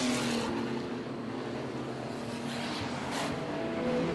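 Stock cars racing around a dirt speedway track, a steady wash of engine roar that swells and fades as the pack passes, with a broad rumbling drone throughout and no voices.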